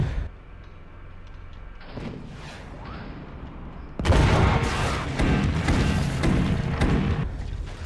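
Rumbling booms and crackling blasts erupt suddenly after a quieter stretch, then continue as a dense barrage of cannon fire and explosions in the video game Forts RTS.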